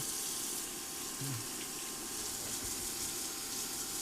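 Water runs steadily from a kitchen sink tap while utensils such as a spatula are washed, a continuous close gushing hiss with a brief low clunk partway through.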